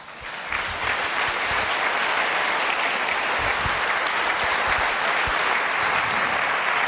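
An audience applauds after a lecture at a large exhibition hall, with sustained, dense clapping from many hands that holds steady and loud throughout.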